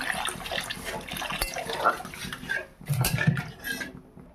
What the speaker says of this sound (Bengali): এবার দিয়ে দেবো পানি পরিমাণ মতো